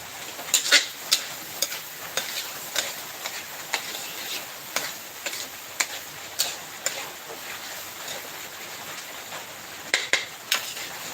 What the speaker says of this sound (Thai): เราก็ได้ผัดบวบไปนะคะ